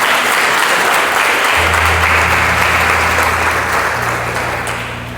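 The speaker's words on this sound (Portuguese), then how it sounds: "Você pode aplaudir o Senhor por isso?" Church congregation clapping together for a sustained stretch, steady broadband applause filling the room while a low organ-like drone enters and holds beneath it, fading slightly toward the end.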